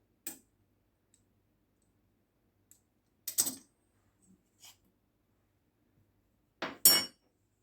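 A knife cuts through baklava in its tray along the edges, giving a few sharp, crisp crunches and clicks separated by long silent gaps, the last cut the loudest.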